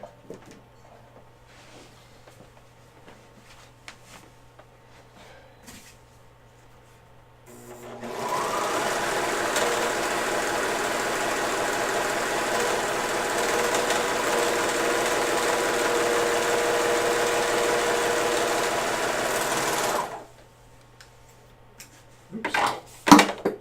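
A serger sewing machine trims and stitches small fabric pieces for gaiters, whirring fast and steadily for about twelve seconds between quieter handling noises and small clicks.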